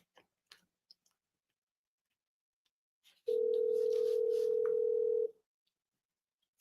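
A telephone call placed on a phone: a few faint clicks, then a single steady ring tone of about two seconds, clear and close against silence.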